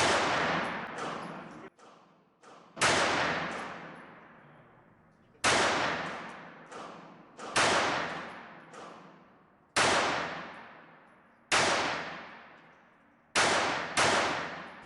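Ortgies 32 semi-automatic pistol fired at a target 35 feet away: about nine sharp, loud, close reports in irregular bursts, each ringing out briefly before the next.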